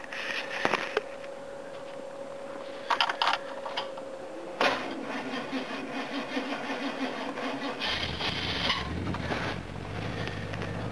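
Attempts to start a flooded Jaguar car engine bring brief cranking bursts, and the engine then catches and settles into a steady, fairly close running rumble.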